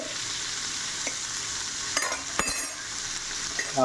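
Sliced onion and salt fry in a pan for curry, giving a steady close sizzle broken by a few stirring scrapes and clatters, with no talking.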